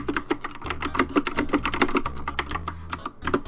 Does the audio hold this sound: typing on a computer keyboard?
yes